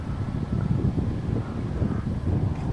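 Strong typhoon wind roars steadily against the microphone in a low, buffeting rumble with gusty swells and no clear voices.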